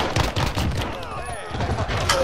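Gunfire from the Warzone video game, a dense run of shots and bursts filling the whole stretch at a steady loud level, with a voice talking over part of it.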